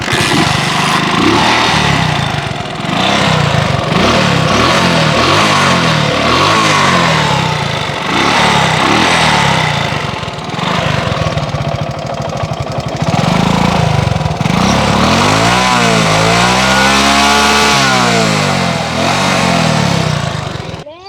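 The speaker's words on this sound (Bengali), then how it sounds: "এবার আপনাদেরকে গাড়ির ইঞ্জিনের সাউন্ডটা একটু শোনাই দিই।" A second-hand Honda S110 motorcycle engine runs steadily and loudly up close, with a few quick revs that rise and fall near the end.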